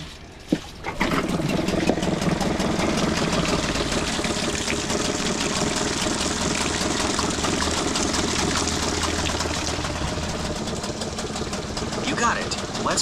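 A Hangkai 6HP two-stroke outboard engine idles steadily after a cold start, a continuous mid-loud running drone with some watery splashing and brief knocks early on, and voices talking faintly over it.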